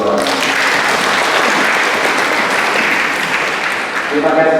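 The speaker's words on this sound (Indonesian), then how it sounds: "Tepuk tangan untuk kedua orang" Guests at a Batak and Manggarai wedding celebration applaud the couple's parents, a loud, dense wash of clapping that fills the whole stretch before tapering slightly at the end.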